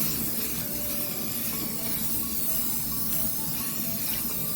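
A continuous hissing spray from an aerosol can of mirror-effect glass spray paint, steady and close, outdoors with wind rushing faintly in the background.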